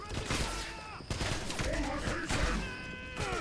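A grenade blast in the shooter game Wolfenstein (2009), a booming burst mixed into a dense, continuous barrage of gunfire and combat noise, loud and busy from start to end.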